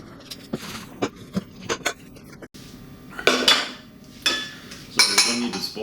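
Spaghetti carbonara tossed together in a pan: a series of scraping, clinking utensil-on-pan strokes, moderately loud and irregular, with short bursts of metallic clatter and no talking.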